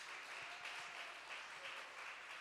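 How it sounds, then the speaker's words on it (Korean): A church congregation claps to welcome a member. The applause is soft and distant, a steady wash of many hands with no talking over it. "우리 큰 환영의 박수 부탁드리겠습니다"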